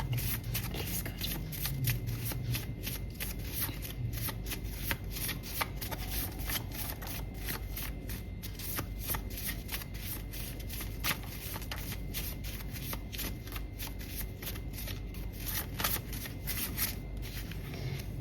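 A deck of tarot cards is shuffled over and over, a dense crisp riffling and flicking that runs continuously and close up, with no voices.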